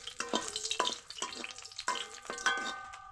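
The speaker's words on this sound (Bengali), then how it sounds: "তেল গরম হয়ে গেছে, কয়েকটি শুকনো মরিচ ভেজে নিব" Dried chillies frying in hot oil in a pan, a soft crackling sizzle punctuated by several sharp clinks of a utensil stirring against the pan, close and fairly quiet with no talking.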